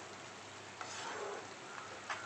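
Semolina and coconut are stirred through bubbling sugar syrup in a pan for rava laddu, giving a faint, continuous sizzle with soft scraping and a few light knocks of the spoon.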